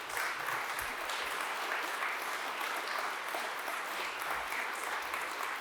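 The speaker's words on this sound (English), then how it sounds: "Could we please have another round of applause?" Steady applause from a conference audience at a political event on the UK's future in Europe, continuous crowd clapping heard at a distance, fairly soft and unbroken for several seconds.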